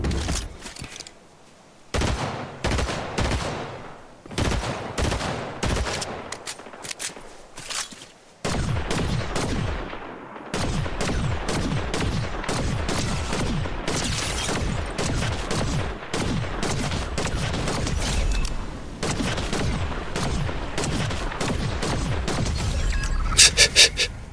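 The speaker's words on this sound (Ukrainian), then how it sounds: "Десь стріляються" Rapid bursts of gunfire in Fortnite crackle almost nonstop, sharp shots layered into dense volleys, with only brief pauses between loud, close barrages.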